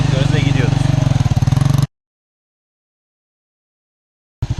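A geared beginner motorcycle engine starts with the ignition on and in neutral, running with a fast, pulsing rhythm and voices over it, then cuts to silence before briefly sputtering back at the end.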